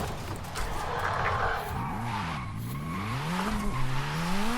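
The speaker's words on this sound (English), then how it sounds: "It is drifting though." A car drifts in Forza Horizon 5, its engine revving and rising in pitch while tires squeal continuously through a long slide, loud and close with no talking.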